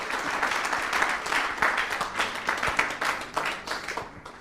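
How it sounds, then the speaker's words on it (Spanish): A church congregation applauds in thanks, standing as they clap; a steady, dense wash of clapping from many hands in a reverberant room, moderately loud and tapering slightly toward the end. "le vamos a dar gracias a Dios con un aplauso"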